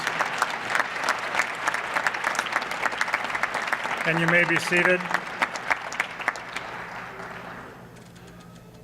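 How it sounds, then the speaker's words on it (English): A ceremony crowd gives sustained applause for twelve award recipients at a school district employee retirement and recognition program, the clapping fading toward the end as someone speaks briefly. "How about a big round of applause for our 12 recipients?"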